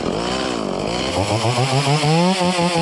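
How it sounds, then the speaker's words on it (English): A chainsaw being used for hinge-cutting trees for deer management sputters on, then revs up into a loud, close, buzzing run with rising and falling engine pitch. "We're just about done as long as this chainsaw starts."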